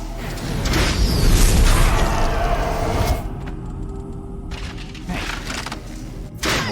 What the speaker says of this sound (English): let's drop some artillery on that square